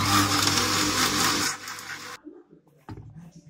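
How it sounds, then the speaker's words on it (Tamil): A kitchen mixer grinder runs loud and steady as it blends cooled, cooked sambar ingredients into a smooth paste, then cuts off abruptly and leaves a few faint clatters and knocks. "இப்போ அந்த ஆறுனத நல்லா மிக்சியில் போட்டு நைஸாக அரைச்சிக்கோங்க"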